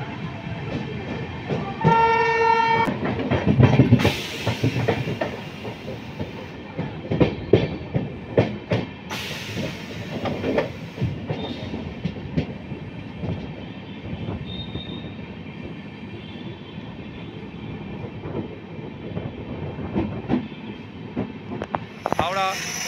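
The Netaji Express from Kalka to Howrah, running on LHB coaches, rumbles past Liluah station with continuous clickety-clack of wheels on rail joints, occasional wheel squeal and a brief tonal blast early on, loud and close throughout.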